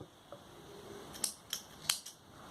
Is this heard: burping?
no